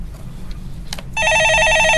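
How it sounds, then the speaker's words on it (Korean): Telephone ringing on a stock market call-in show, a short electronic trill that starts suddenly after a stretch of low background noise and keeps ringing steadily and loudly to the end. "예, 전화 받아보겠습니다."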